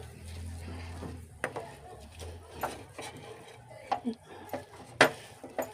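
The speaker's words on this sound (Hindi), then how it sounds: "खसखस को भी इसमें इसी के साथ में भून लेना है, इसी घी में मिलाते हुए" Poppy seeds being roasted and stirred in ghee in a pan: scattered clinks and scrapes of a spoon against the pan, with a louder knock near the end, over a low steady hum.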